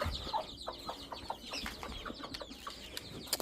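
Chickens and young chicks in a backyard garden give repeated short clucks and chirps at an uneven rhythm. The calls are fairly faint over soft outdoor background noise, with no talking.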